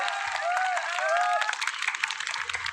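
Crowd applause at a political rally, a burst of clapping mixed with a high whistle, loud at first then thinning into scattered claps.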